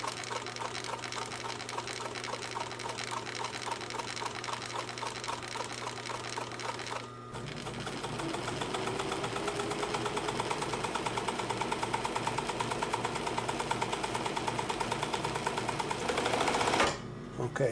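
Bernina 950 industrial sewing machine running a straight stitch: a fast, steady mechanical chatter that pauses briefly, then resumes at a slightly quicker, louder pace before stopping near the end, heard close with no talk.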